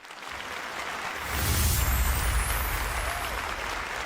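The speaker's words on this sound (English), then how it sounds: "Let's keep that applause going" Dense applause from a large audience at an awards ceremony, a continuous wash of clapping that swells louder partway through and stays sustained to the end.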